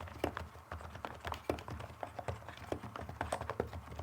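Rapid, uneven keystrokes on a top-tier membrane computer keyboard, clicking close up and alone with no voices, in a steady patter of taps of varying loudness.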